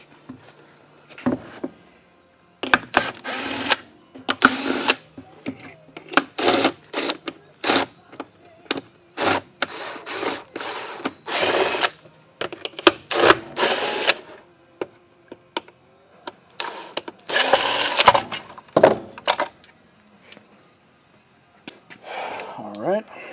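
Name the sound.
pulling the motor cover off a Bissell compact vacuum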